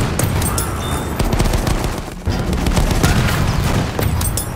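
Rapid bursts of machine gun fire mixed with booming shots in a Battlefield 1 wartime battle, loud and dense with no pause.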